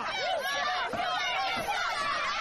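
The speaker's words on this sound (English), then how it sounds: "You hear the crowd getting on Preacher's case here" Wrestling arena crowd jeering at the wrestler Preacher, a steady, dense roar of voices and chatter heard from a distance beneath a commentator talking.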